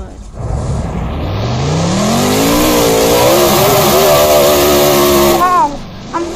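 Engine roar from monster trucks racing in the video game Monster Trucks: Champions Arena, a loud continuous revving drone that rises and falls in pitch as the trucks accelerate, fading out at the end.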